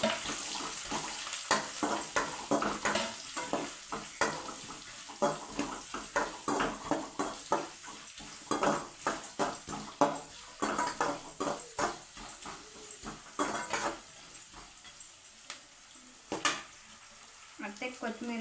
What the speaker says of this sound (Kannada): ಇದು ಎಣ್ಣೆಲ್ಲೇ ಫ್ರೈ ಮಾಡ್ಕೊಳ್ಳಿ ಫ್ರೆಂಡ್ಸ್